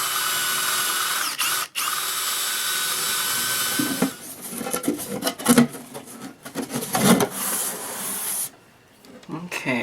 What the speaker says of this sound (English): it's time to drill some holes here.